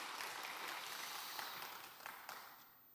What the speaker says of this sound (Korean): 우리 박수를 크게 합시다.